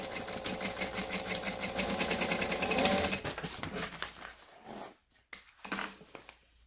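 A sewing machine stitches across a bag lining, its rapid needle chatter running loud and steady for about three seconds, then halting, followed by a few short bursts and scattered handling clicks as the fabric is adjusted.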